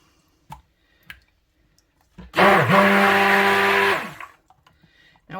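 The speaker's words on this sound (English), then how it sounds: "And then I'm going in with a stick blender." A stick blender runs in one continuous burst of about a second and a half, mixing tallow soap batter after a few faint clicks, loud and close, then stops.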